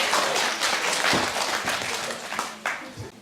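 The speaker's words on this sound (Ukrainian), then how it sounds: "Давайте поаплодуємо!" Audience at a 2015 New Year tree celebration in Chernihiv applauding the first deputy mayor, a busy round of clapping that fades and thins toward the end.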